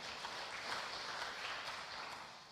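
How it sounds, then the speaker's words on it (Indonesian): Church congregation during a Sunday service applauding in praise of God, a dense wash of many hands clapping heard from a distance, steady and fairly faint, with no voices over it. "berikan aplaus tepuk tangan yang meriah buat Allah kita"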